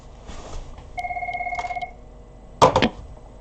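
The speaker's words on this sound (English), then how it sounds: "And there goes my phone ringing." An incoming call sets off a phone ringing in a rapid electronic trill that lasts about a second, followed by a short burst of clattering handling noise.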